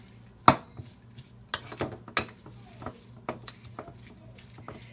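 Sautéed vegetable stuffing for spinach, goat cheese and pine nut stuffed chicken is stirred in a bowl with a utensil, making scattered close clinks and soft scraping taps against a low background hum.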